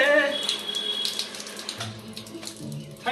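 Cold water runs and splashes while a Duke motorcycle is washed, a close, uneven gush with hissing spray that shifts in strength and briefly eases before surging again.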